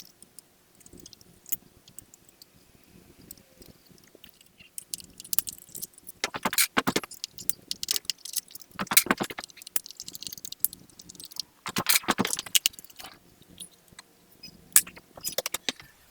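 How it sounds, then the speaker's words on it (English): Torx screws being undone on the engine cover of an Aprilia RSV4 motorcycle, heard as scattered metallic clicks and ratchety scraping bursts that grow busier midway, close and fairly quiet, with no speech. "I'll undo these Torxes and get this top off."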